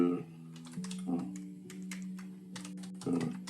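Keys clatter on a computer keyboard as code is typed, quick irregular bursts of close clicks over a steady low electrical hum.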